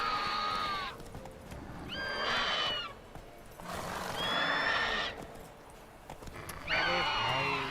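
Roach the horse in The Witcher 3 game, with repeated whinnies and neighs over hoof clatter in loud bursts separated by short quieter gaps.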